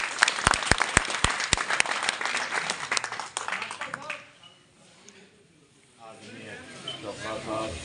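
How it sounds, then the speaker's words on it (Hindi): Loud applause and sharp individual claps from an audience welcoming the media at a BJP gathering at a leader's residence, fading into quieter background murmur and chatter after about four seconds. "मीडिया साहब का जोरदार तालियों से स्वागत"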